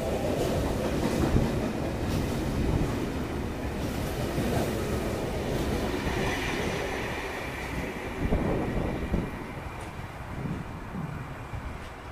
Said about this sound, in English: Hamilton bound V-set now passing platform 3.